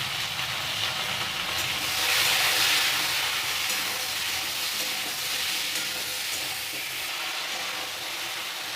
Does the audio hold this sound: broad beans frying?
yes